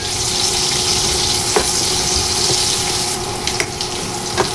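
Pork frying with onion and garlic in a pan for adobong sitaw, with a loud, steady sizzle and a few sharp clinks of stirring, close up and without talk.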